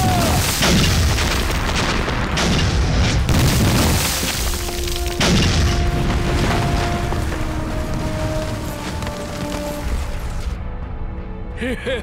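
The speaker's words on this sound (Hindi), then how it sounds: "उन्हें बम से उड़ा दो" Bomb explosions roar through a Chinese adventure action movie, with dense, loud, rumbling blasts and crashing debris filling the scene before easing toward the end.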